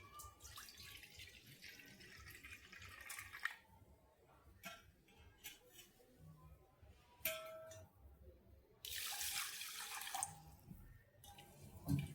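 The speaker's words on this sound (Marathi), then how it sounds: "हा तांदूळ आता आपण स्वच्छ पाण्यात दोन ते तीन वेळा धुवून घेणार आहोत" Surti Kolam rice is rinsed by hand in a pot of water, with faint sloshing, swishing and trickling pours that come in separate bursts, quiet and close.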